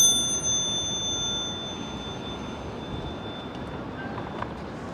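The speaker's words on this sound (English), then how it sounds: "ringing the bell won't get pigeons to go out of the way." A single bright bicycle bell ring opens, its tone fading over a couple of seconds above steady street rumble and traffic noise on Madison Avenue, Upper East Side, New York City.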